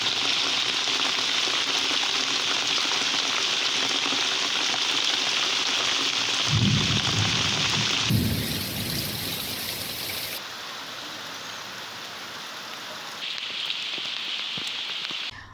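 Monsoon rain pours steadily as a loud, dense hiss, with a brief deeper rumble partway through and the intensity shifting slightly over time, no voices heard.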